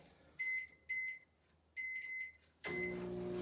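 A microwave beeps several times as buttons are pressed, then starts up with a steady low hum while cooking lidded rice.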